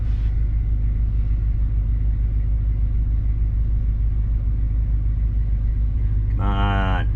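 A Newell coach engine runs at high idle, a steady low rumble holding constant throughout, with a short hiss or whine near the end.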